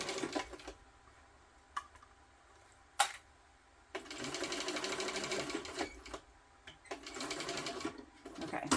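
Sewing machine stitching a webbing strap onto a bag, close by: a steady whirring run in two longer stretches, broken by short pauses and a few sharp clicks.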